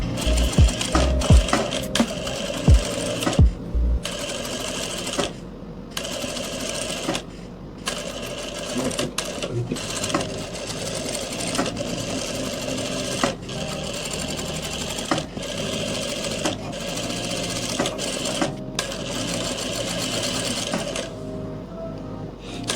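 Close, loud sewing machine stitching piping onto the sleeve flare of a round-hem kurti, running in steady bursts of rapid needle rattle separated by short pauses and a few clicks, with no talk over it.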